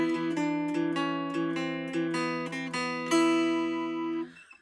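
Mountain dulcimer played with a picked bass string on each step of a descending line, a steady run of bright plucked notes ringing over a droning lower string, close and clear, with no voice.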